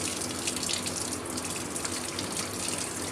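Tap water runs steadily into a sink as a thermometer is rinsed under it, a continuous close, loud rushing splash with no talking.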